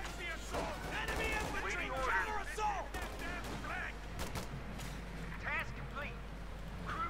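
Scattered rifle and machine-gun fire in the real-time strategy game Company of Heroes 2 during a 1v1 match, distant crackling shots under a constant low rumble while a commentator talks over the action.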